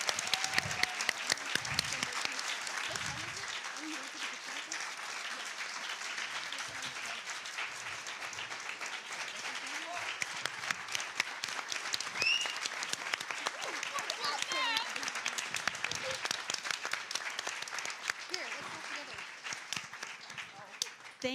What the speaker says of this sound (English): More round of applause for Dr. Kendi.